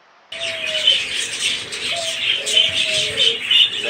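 Ornamental pigeons coo in soft, repeated low calls close by, over a bright background of chirping birds and light wing flutter, with no talking.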